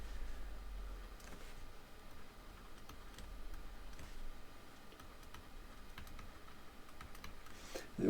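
A computer keyboard is typed on during a lecture, giving faint, irregular key clicks in short runs over a quiet room hum, with no talking.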